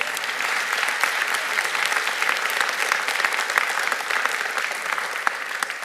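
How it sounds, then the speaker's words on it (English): Audience applause at a Jewish Community Relations Council press conference, a steady dense wash of clapping hands sustained evenly from start to finish with no talk over it. "let's give them all a round of applause"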